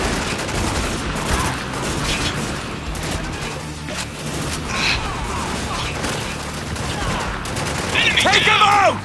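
Sustained gunfire crackles from a firefight in the shooter game Spec Ops: The Line, with rapid bursts and occasional heavier impacts under voices shouting combat orders.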